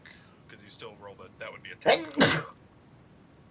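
A single sharp sneeze bursts out near the end of a man's quiet speech at a tabletop game session, close and loud compared with the talk, with a short second gasp right after it.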